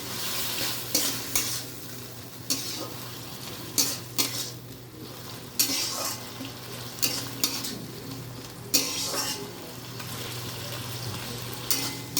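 Banana flower curry with turmeric being stirred in a pan, utensil scraping and clinking against the metal in repeated strokes over a steady background sizzle, close up, with no voices.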